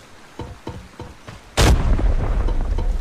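A few soft thuds, then a sudden loud boom that rolls into sustained rumbling, an explosion in the shooter game Arena Breakout; no talking.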